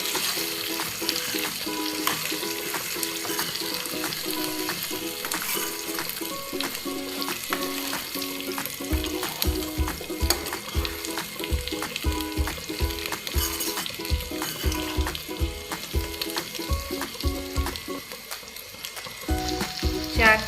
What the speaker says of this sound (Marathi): याला आपण 4 ते 5 मिनिटांपर्यंत असं परतून घेणार आहोत.